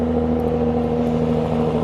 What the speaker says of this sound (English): I just have to wait for the silly trucks to go by because it's so noisy